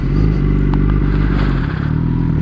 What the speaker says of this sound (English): so I got to take the bike out.